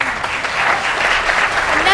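Audience applause after an Earth Day speech about tree planting: a sustained, loud wash of clapping that continues throughout, with a voice talking over it.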